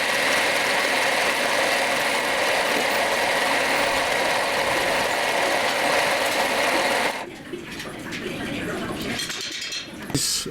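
A twin-cylinder rotary valve steam engine spins with a steady, fast mechanical whir and rattle for about seven seconds, then drops away to quieter clicking and handling noise.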